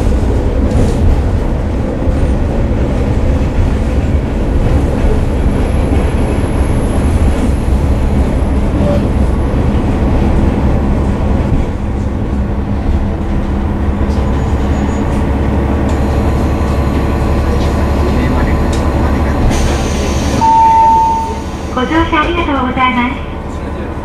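A steady low rumble of a JR Himi Line KiHa 47 diesel train running, heard from inside, with a chime and a brief electronic tone near the end.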